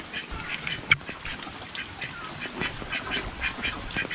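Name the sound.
flock of ducks quacking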